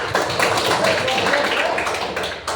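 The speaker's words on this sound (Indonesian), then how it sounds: "tepuk tangan dulu" A classroom of students claps together, a dense, steady patter of many hands held for a few seconds at moderate volume.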